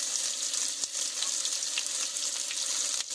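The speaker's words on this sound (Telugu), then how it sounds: "ఆనియన్స్ కొంచెం గోల్డెన్ కలర్ వచ్చే వరకు వేయించుకోవాలి." Chopped onions and green chillies fry in hot oil over tempered lentils, mustard and cumin for a capsicum fry, giving a steady, close, bright sizzle with a few faint clicks and no talking.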